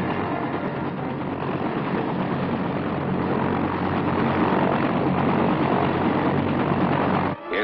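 An Army helicopter in flight gives off a steady, loud rotor and engine roar that holds constant throughout and cuts off abruptly at the very end.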